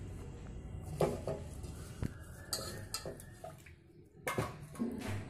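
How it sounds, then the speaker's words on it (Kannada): Rice being washed with water inside a cooker: sloshing, scraping and clinking against the metal pot in irregular bursts, close and fairly quiet, with no talking. "ಸ್ವಲ್ಪ ನೀರನ್ನು ಹಾಕಿ ನಾವು ಅಕ್ಕಿನ ಚೆನ್ನಾಗಿ ವಾಶ್ ಮಾಡ್ಕೊಳ್ಳಬೇಕಾಗುತ್ತೆ"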